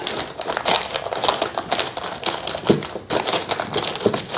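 Metal bolts rattle and clink continuously as a hand rummages through a bag of them, a dense, close, jangling clatter with sharper individual clicks and small sliding crashes, and no voices.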